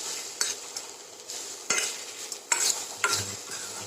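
Grated carrots roasting in a pan for kheer, a spatula scraping and stirring in irregular strokes over a steady low sizzle, close and fairly clear with no talking.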